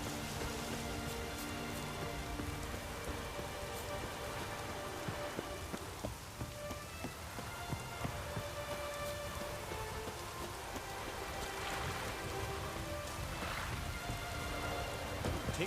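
Steady rain pours down in The Witcher 3, a dense hiss of drops striking surfaces that fills the whole stretch, with faint thunder rumbling low in places and no voices heard.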